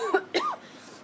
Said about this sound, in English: I do have a coughing fit